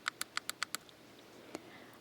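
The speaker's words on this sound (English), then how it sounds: "whenever you hear the clicking sound" A quick run of six sharp, evenly spaced clicks, then a pause and one more lone click, crisp and close in a quiet room.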